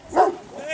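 A police K-9 dog gives a single short bark during a scuffle with officers, loud and close, with voices nearby.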